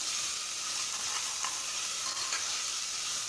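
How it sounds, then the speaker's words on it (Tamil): Chicken masala with slit green chilies and tomato being stirred in a hot pan: a steady bright sizzle with a few soft scraping strokes, close by and with no talking. "இப்போ நல்லா கிளறி விட்டுக்கலாம்."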